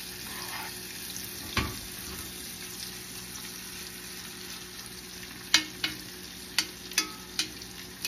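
Steak sears in a pan with onions and mushrooms, giving a steady quiet sizzle with one sharp clack early and a run of utensil taps and scrapes near the end.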